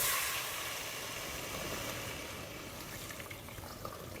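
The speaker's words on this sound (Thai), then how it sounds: "หลังจากนั้นพี่ใส่น้ำแล้วครับใส่น้ำไม่ท่วมหมูเลย" Water poured into a cooking pot of browned pork, a steady broadband rush and splash that holds throughout and eases slightly toward the end.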